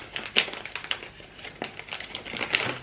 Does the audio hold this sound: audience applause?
no